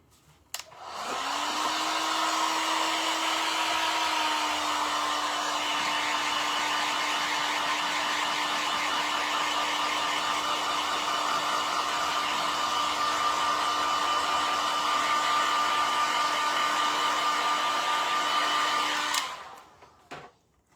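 A hair dryer blows on freshly painted tin can craft for a rustic, aged look. It switches on with a steady, loud whirring hum that holds for nearly twenty seconds before clicking off, with no one speaking.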